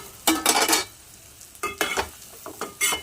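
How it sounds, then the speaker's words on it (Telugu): Chickpeas fry in hot oil for a boti fry, with several loud sizzling, stirring bursts separated by short quieter gaps. "చూడండి ఫ్రెండ్స్, ఇట్లా బాగా ఆయిల్లో ఫ్రై అయిన తర్వాత శనగలు"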